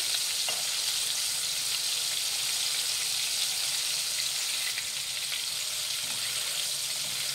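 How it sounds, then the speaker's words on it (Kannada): Chicken popcorn deep-frying in oil over a medium flame makes a constant, even bubbling sizzle, a dense hiss that holds steady throughout with no talking. "ಕ್ರಿಸ್ಪಿ ಆಗೋವರೆಗೂ ನಾವು ಫ್ರೈ ಮಾಡಬೇಕಾಗತ್ತೆ ಎಣ್ಣೆಯಲ್ಲಿ"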